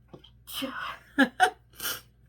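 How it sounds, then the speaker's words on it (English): A quick, breathy sneeze bursts out close by, with a short sharp exhale after a brief intake, quiet overall. "I feel like I'm going to sneeze now."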